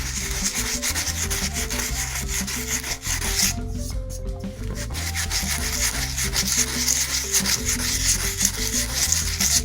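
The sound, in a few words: sanding plaster piggy bank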